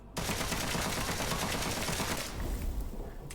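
A held trigger sends a continuous stream of automatic gunfire in the dark fantasy shooter Witchfire, rapid even shots for about two seconds before cutting off into a quieter tail.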